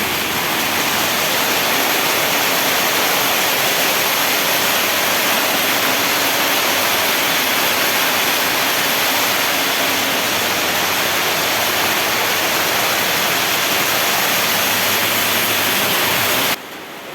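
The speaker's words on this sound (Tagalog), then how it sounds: "Sobrang lakas ng ulan." Heavy typhoon rain roars steadily and loudly for the whole stretch, a dense unbroken wash of noise that cuts off abruptly at the end.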